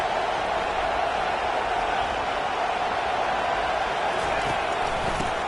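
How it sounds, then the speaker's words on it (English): A stadium crowd at a football game roars continuously, a loud, dense wash of cheering and noise that holds steady throughout without letting up. "Listen to this crowd just shaking the girders of this place"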